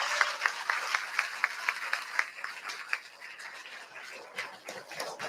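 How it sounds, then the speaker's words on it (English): An audience applauds students at a fifth-grade awards ceremony. The clapping is moderate and close, with a few distinct regular claps standing out at first, then thins into a softer, scattered patter. "Please give them a round of applause."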